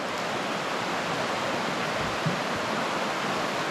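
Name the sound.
river water flowing under a bridge, moving rocks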